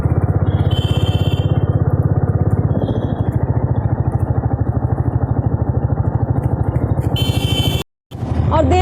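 A motorbike engine drones steadily while riding on a foggy, cold road, a close rhythmic putter with wind, briefly cutting out near the end before resuming.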